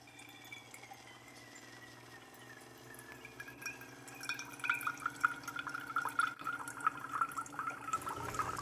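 Hot water from a Keurig coffee maker dispensing into a cup, a quiet hum building into a steady close trickle and gurgle that grows louder toward the end.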